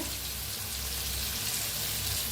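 Stuffed ridge gourd fries in a pan with a continuous close sizzle and soft crackling, steady and unbroken, with no voices over it.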